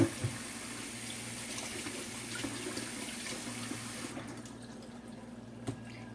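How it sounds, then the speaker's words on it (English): Kitchen tap water runs steadily into a sink while something from chicken prep is washed out, a continuous hiss that stops abruptly about two-thirds through, leaving a quiet room tone and a faint clink near the end. "Wash this out."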